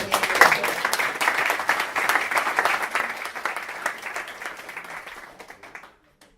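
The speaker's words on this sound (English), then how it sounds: "Guys, just give a round of applause" Sustained applause from a sizeable audience, dense and steady, tapering off before ending in silence.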